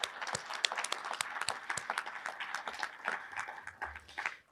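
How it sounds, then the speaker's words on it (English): Scattered applause at an honor society induction ceremony for first-generation students, sharp individual hand claps rising and falling over several seconds, fairly quiet and not dense, as if from a modest audience. "So let's have a round of applause for you."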